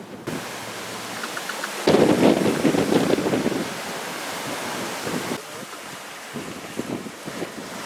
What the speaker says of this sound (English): when the wind is strong and gusting, it creates a lot of weather helm